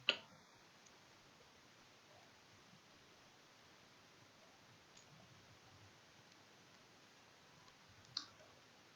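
A computer mouse clicks faintly while working in the Unity editor, one soft click at the start and another about eight seconds later, over a quiet background hiss.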